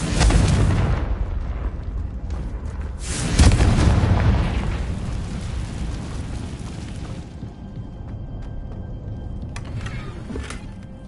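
A Confringo fire spell explodes in Hogwarts Legacy, with heavy booming blasts and a second burst, then a rumbling decay that fades into quieter game ambience.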